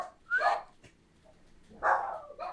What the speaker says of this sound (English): they're barking at anything